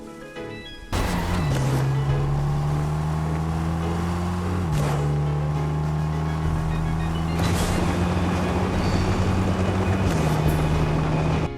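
A car engine in the video game Fortnite hums at a steady idle-like drone, shifting pitch slightly a few times, loud and continuous with no talk.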